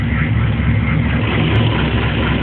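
A Mazda B2200 truck engine runs at a steady idle, a close, constant low rumble with no revving and no voices.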